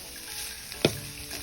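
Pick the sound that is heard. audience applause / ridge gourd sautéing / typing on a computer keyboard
ridge gourd sautéing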